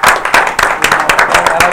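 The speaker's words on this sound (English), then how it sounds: "Give a round of applause." An audience gives a round of applause, dense clapping close and loud that fills the short stretch, with crowd voices mixed in.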